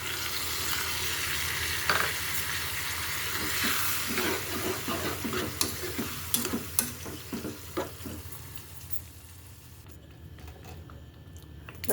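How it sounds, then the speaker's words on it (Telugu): Tamarind is stirred in a hot frying pan for a pulihora dish, giving a steady sizzle under repeated scraping and tapping of the spoon that thins out toward the end, with no talk. "ఇప్పుడు చింతపండు కొద్ది వేసేస్తున్నాం."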